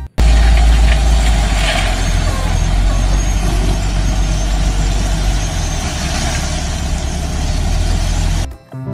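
Loud, close rumble of a heavy sand dump truck engine idling and churning steadily for several seconds, then cutting off abruptly at the end.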